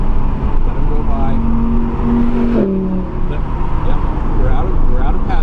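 Race cars at Thunderhill sweep past on track with a rising engine whine and a sharp pitch drop as one goes by, heard from inside a car over its own engine noise, with a voice coaching over it.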